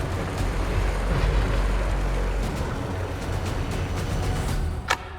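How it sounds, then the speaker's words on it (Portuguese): Ocean waves surge in a steady, heavy roar with a deep low rumble and a windy wash, continuous and full throughout, with no voices. "As ondas levantam os sedimentos do fundo e os depositam novamente, camada por camada."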